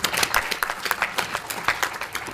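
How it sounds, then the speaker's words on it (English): An audience at a formal vote-of-thanks ceremony applauds in a brisk, steady burst of clapping that fills the short stretch evenly. "So I just request a big round of applause for him as well."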